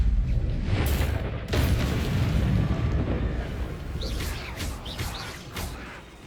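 Explosive spell blasts in Hogwarts Legacy hit with loud, deep booms and rumbling bursts, a couple in quick succession up front, then fading into lighter crackles with faint bird-like chirps.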